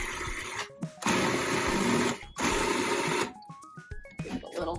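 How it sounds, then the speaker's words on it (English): A food processor whirs loudly in two long sustained bursts with a brief pause between them, blending ingredients until smooth, then cuts off, leaving a few rising whine tones and light clatter. "Now I'm going to turn my food processor on, and I'm going to make it nice and smooth."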